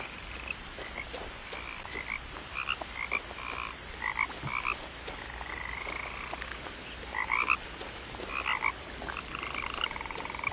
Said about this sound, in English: Frogs ribbiting in the truth forest